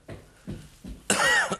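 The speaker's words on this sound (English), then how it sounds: "Looks like you might be getting a bit of a cough." A short run of three soft, muffled coughs followed by a louder, harsher cough, from a person indoors in a television drama scene.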